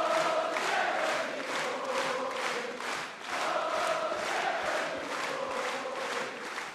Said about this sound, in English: 2 minutes and 32 seconds of chanting and applause is adoration and belief.